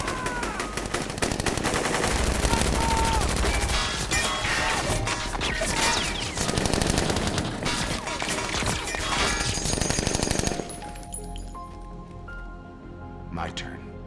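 Gunfire and explosions from the 2008 Iron Man film: dense rapid shots and crashing blasts, loud and continuous for about ten seconds, then a quieter stretch with a sharp hit, while someone narrates over it.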